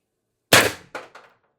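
A 4x12g CO2 stock airsoft gun firing 4-gram Vindicator rounds fires one sharp, loud crack, followed by two quickly fading echoes, with no voices over it.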